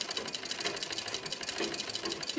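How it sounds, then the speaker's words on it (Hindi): A manual sewing machine's bobbin winder filling a bobbin with thread, giving a steady close whirring mechanical hum with a fast, even rattle throughout. "इसको दबाएंगे तो हमारा बॉबिन में धागा भरना शुरू हो जाएगा."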